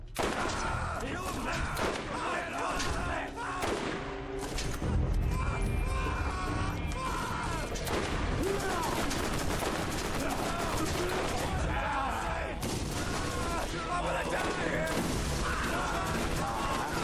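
Gunfire bursts in the video game Borderlands, with dense, sustained shooting and crashing impacts layered over a busy game soundtrack throughout.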